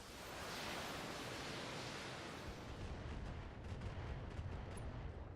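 Mech weapons firing in the BattleTech video game: a loud, sustained roar of explosive blasts with heavy low rumble, continuous for several seconds, with no speech.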